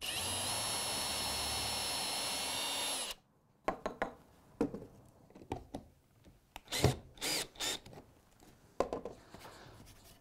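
A power drill whirs steadily for about three seconds while driving screws into wooden stilt feet for a yard game. Scattered knocks and clatter of wood and hardware follow in a quieter space.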